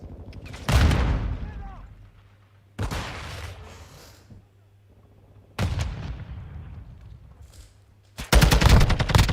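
Gunfire in Call of Duty Modern Warfare II, several loud bursts of heavy shots and blasts, each decaying into a rumbling tail, with in-game voices talking between them.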